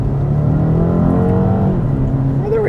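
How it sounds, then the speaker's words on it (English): A 2021 BMW 228i Gran Coupe's four-cylinder engine blips up on a paddle-shift downshift into second gear, a loud, close rising rev over steady cabin road noise. "Let's give it a quick downshift into 2."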